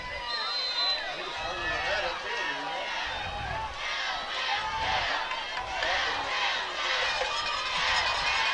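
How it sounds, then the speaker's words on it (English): A large crowd at a Newport Greyhounds high school football game against Atkins cheering and hollering, a steady loud roar of many voices, with a commentator talking over it throughout. "Hound fans on their feet, hollering, "Go Hounds, go.""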